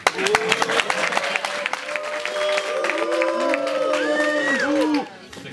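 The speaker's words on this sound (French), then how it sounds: "on peut les applaudir bien fort" A theatre audience claps briskly, dense applause strongest at the start, then shifting into cheering and whooping voices before fading out.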